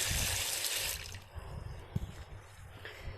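Water gushes from a garden tap for about a second, then cuts to quieter trickling and drips in an outdoor garden setting.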